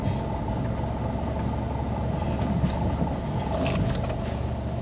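A car engine hums and rumbles steadily up close as the car, a Tigor or i20, eases forward during parking, with a few faint clicks and knocks partway through.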